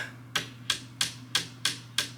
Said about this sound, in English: it says hammer them in to approximately 3/8 of an inch